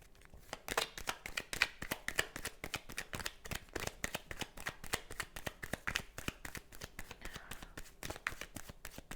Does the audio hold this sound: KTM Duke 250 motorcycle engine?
no